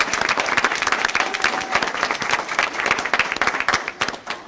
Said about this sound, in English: So let's give Tammy a round of applause.